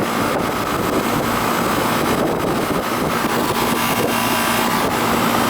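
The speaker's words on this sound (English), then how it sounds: "I guess the fan is spinning the right way." Steady whooshing drone of an old AC unit's fan spinning, a constant broadband whir with a faint low hum, continuous and fairly loud with no talking.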